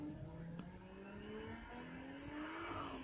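Car engine revving and accelerating, with steady tonal engine lines rising in pitch and a brief flutter-like burst, loud and continuous over road noise for about three seconds.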